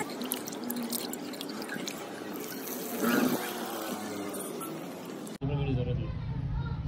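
Chicken being washed in water for biryani, with steady dripping, splashing and running water throughout, and a person talking over it.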